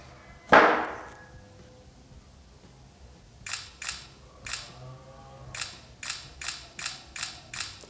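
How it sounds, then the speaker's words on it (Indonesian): An Itel P55 5G phone takes photos in a quiet room: one loud tap or thump near the start, then about ten short, crisp shutter clicks in irregular bursts, close and clear, with no voice. "Sekarang coba kita jepret-jepret sebentar untuk foto di itel P55 5G. Kita tes untuk shutter speednya ya."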